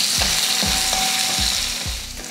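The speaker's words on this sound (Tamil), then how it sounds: "வெங்காயத்தை ஓரளவுக்கு வதக்கினதுக்கப்புறம்" Onions, dried red chillies and garlic sizzle and fry in a pan for a chutney, a steady loud crackle with repeated stirring scrapes and clicks, no talk.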